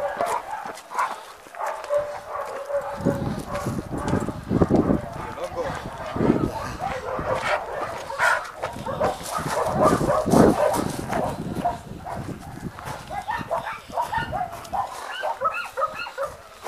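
An abandoned dog barks on and off, outdoors, with several fairly close barks mixed among people talking throughout.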